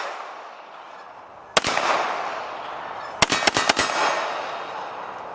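Springfield TRP pistol firing outdoors: one sharp shot, then a rapid string of four or five more shots about a second and a half later, loud and close, with steady background noise between them.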